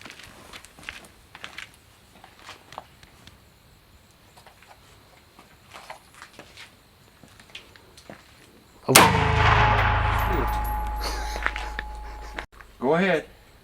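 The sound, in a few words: gun being fired five times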